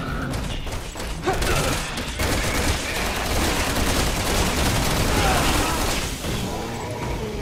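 A big gun firing in the video game Resident Evil 6, a loud, dense stream of rapid blasts and booms that continues throughout, with a voice talking over the gunfire.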